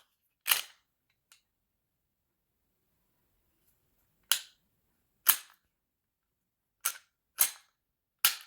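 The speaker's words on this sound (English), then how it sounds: "So I'm going to clear this guy." A Taurus TH series pistol is cleared by hand, with sharp metallic clicks and clacks of the slide and action, a couple early and then a quick group of five near the end, separated by silence.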